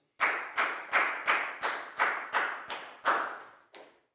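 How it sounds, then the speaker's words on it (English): A primary-school English class applauds a pupil. About ten loud, close claps come at an even, quick beat, with a short break before the last one. "a big round of applause for Prau, please, guys"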